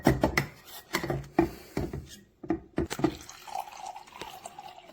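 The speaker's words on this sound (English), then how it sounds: "So I'm going to put some water in this cup" Filtered water from a ZeroWater 32-cup filter dispenser splashes and trickles into a cup in short bursts with gaps between, followed by a softer, steadier flow near the end; close and fairly quiet.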